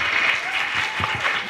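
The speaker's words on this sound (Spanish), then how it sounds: "Un aplauso, sí, ¿por qué no?" An indoor audience at a talk about The Lord of the Rings applauds, a brief steady burst of dense clapping that is close and fairly loud throughout.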